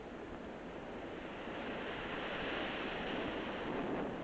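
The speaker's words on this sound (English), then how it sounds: "Waves a mile long and smooth as glass." Pacific Ocean surf at Chicama in northern Peru, a steady broad rushing wash of breaking waves that swells slightly louder, heard alone at a moderate distance with some wind.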